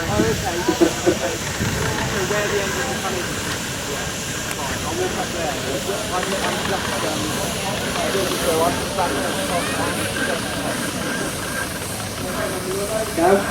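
A 4-inch scale miniature steam road locomotive hisses continuously at close range in a steam rally demonstration ring, with a steady breathy roar and crowd and voices mixed in around it.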